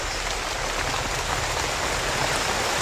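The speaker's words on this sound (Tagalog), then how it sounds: "lumalakas na yung ulan" Heavy rain pours down steadily, a dense unbroken hiss of drops that stays loud and even throughout.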